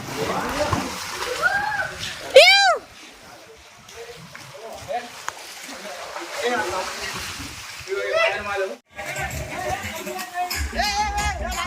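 Someone jumps into a farmhouse swimming pool with a loud splash, followed by sloshing water as friends shout and talk excitedly around the pool.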